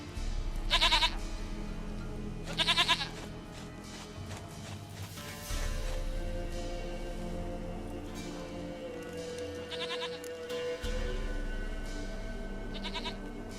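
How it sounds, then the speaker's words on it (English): Bleating goat from The Witcher 3 calling four times in shaky, wavering cries spread well apart, over a low, steady outdoor game ambience with occasional soft thuds. "Goat of mine, dearest,"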